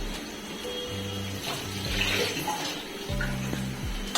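Tap water runs steadily while curry leaves are washed for a Telugu chicken dish, with a low humming tone that comes and goes underneath the flow.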